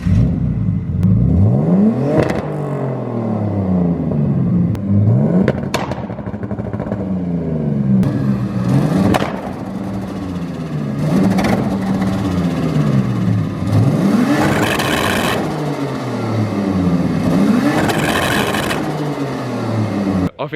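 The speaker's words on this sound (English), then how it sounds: "so start up and give us a couple of revs." A big-turbo BMW E46 engine is revved repeatedly while stationary: about seven loud, close rises and falls in pitch at a steady rhythm over a constant idle, with no voices.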